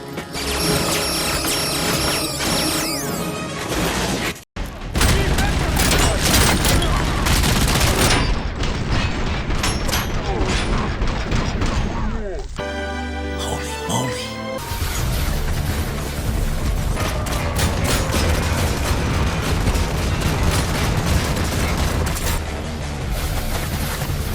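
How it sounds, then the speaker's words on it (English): Rapid full-auto fire from the Auto 9 pistol in the RoboCop: Rogue City video game, loud sustained bursts with dense overlapping shots and a brief pause partway through, mixed with game effects. "Full auto. Rapid fire."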